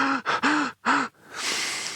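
A voice imitating heavy panting, three quick loud gasping breaths in a row followed by a longer noisy exhale, close and alone.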